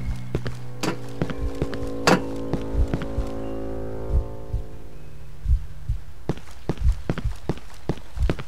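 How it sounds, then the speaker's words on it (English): Slow, heavy heartbeat thumps in the survival horror game Cry of Fear, a Half-Life mod, pulsing steadily at moderate volume over a droning, fading tonal ambience with scattered sharp knocks. "And now it starts with the heartbeat."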